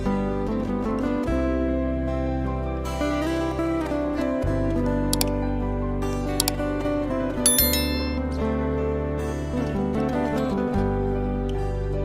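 A ringing notification bell effect, bright repeated chimes like a bicycle bell over a steady low tone, moderately loud and on its own with no speech.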